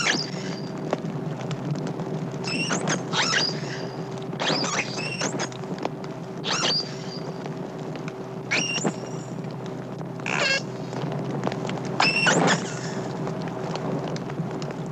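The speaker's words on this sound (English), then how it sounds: "Our unhappy dolphin provides us with a great variety of recordings of her voice" A lone captive dolphin calls to its missing herd with short whistles and chirps, repeated in scattered bursts over a steady underwater hiss and hum.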